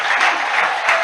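A church congregation claps together in steady, sustained applause, a dense wash of hands filling the room with little variation in level.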